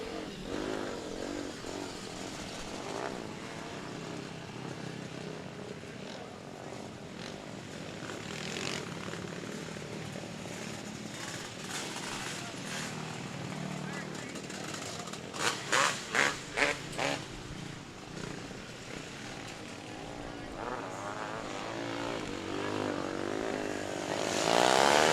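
500-class racing karts run hot laps on the Sebastian Speedway track at night, engines buzzing and whining continuously as they circle, with a cluster of sharp revving bursts midway and a rising roar toward the end.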